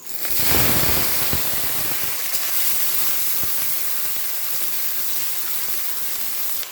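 Vegetables hit a hot pan for sabu khichuri, giving a loud, steady steamy hiss and sizzle with a burst at the start that holds evenly throughout, no voices.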